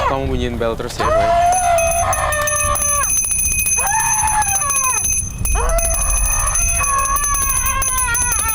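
A bicycle-style bell rings repeatedly in bursts of bright metallic trills, loud and close, with short pauses between rounds and voices in the background.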